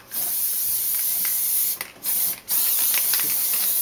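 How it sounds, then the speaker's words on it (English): Spray adhesive hisses from an aerosol can into a chipboard box, three loud, close bursts with short pauses between them. "You're spraying this again because the spray adhesive dries really fast."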